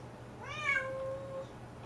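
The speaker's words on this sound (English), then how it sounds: "Noisy cat." A single drawn-out meow from a nearby cat, rising then sliding down, over a quiet room hum.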